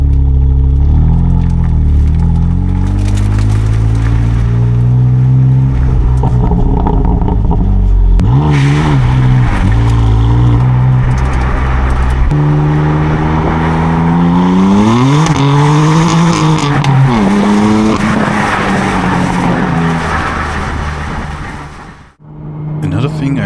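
A BMW M3 F80 with its single-turbo S55 engine revs and pulls through the gears while driving, strong, rising and falling engine tones close up with brief shift breaks, before the sound fades out near the end.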